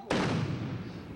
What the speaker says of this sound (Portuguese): dada a salva de 21 tiros, que só é prestada a policiais que morrem no exercício do dever